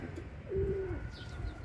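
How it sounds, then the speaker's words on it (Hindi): A single soft coo from a teddy pigeon, a black-tailed breed, heard close against a low background rumble. "ये टैडी कबूतर है, ये शौक़ करें माशाल्लाह"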